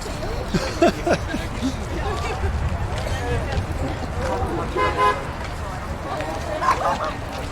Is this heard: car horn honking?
yes